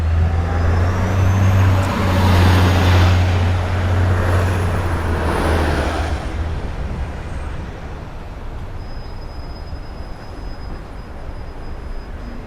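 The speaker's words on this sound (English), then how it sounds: "The bus is coming in now." A city bus pulls in through stalled street traffic on a Brooklyn-to-Manhattan walking route in New York City, its loud low engine rumble close by for several seconds before easing off into steady traffic noise.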